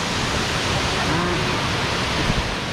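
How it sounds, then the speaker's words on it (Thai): The Tad Kuang Si waterfall near Luang Prabang pours with a loud, steady, broadband roar of falling water, constant and unbroken throughout. "สวยจริงๆน้ำตกตัวนี้สวยมาก"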